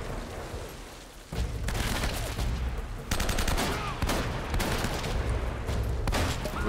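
Enemy gunfire in Uncharted: Drake's Fortune, loud sustained volleys of shots with heavy booming impacts, continuous and close across the whole stretch.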